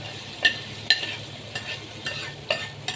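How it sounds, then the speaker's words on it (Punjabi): A spice tempering is poured into dal and stirred, producing a handful of soft, sharp spoon clinks and scrapes spread over a quiet sizzle, close and fairly faint. "ਇੱਥੇ ਦਾਲ ਰੱਖਦੇ ਆ ਦਾਲ ਦੇ ਵਿੱਚ ਆਪਾਂ ਮਸਾਲਾ ਪਾ ਦਾਂਗੇ ਸਾਰਾ"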